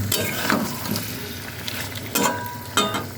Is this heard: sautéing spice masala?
yes